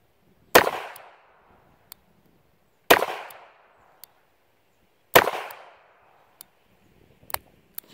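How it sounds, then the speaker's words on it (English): Three sharp gunshots from a Smith & Wesson 43C .22 LR J-frame revolver with a 2-inch barrel ring out about two seconds apart, each loud crack trailing off quickly, with a few faint clicks and taps between shots. "This gun shoots pretty good."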